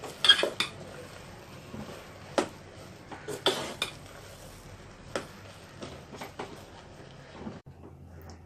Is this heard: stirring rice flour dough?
yes